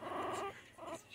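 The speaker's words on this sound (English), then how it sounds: "Listen to him growling." A very young puppy, held in someone's hands, lets out two short, close growls separated by a brief pause.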